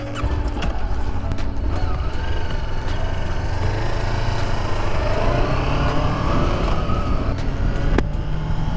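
A Honda CB500X motorcycle engine runs and pulls away on a road in New York, a loud continuous rumble with rising revs and steady wind noise, close and sustained throughout.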